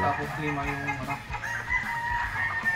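A gamefowl stag on a breeding farm crows in clear, repeated calls, with some clucking from nearby fowl in the background and no one talking.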